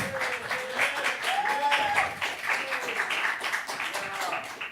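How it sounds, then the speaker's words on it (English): An audience claps for a master's student at a university event, with moderate, steady applause heard under overlapping voices and cheering. "Please clap for Seungho."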